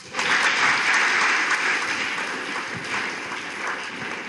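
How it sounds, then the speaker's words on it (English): A lecture-hall audience gives a big round of applause, dense continuous clapping that starts loud and eases slightly while holding steady throughout. "Give it a big round of applause,"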